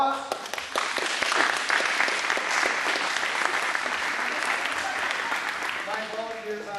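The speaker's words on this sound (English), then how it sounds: "Give them a big round of applause" Audience applause at an after-prom hypnotist show in St. John, Kansas, clapping for volunteers on stage; a loud, dense burst of clapping that holds steady for several seconds, then begins to thin out, with voices mixed in.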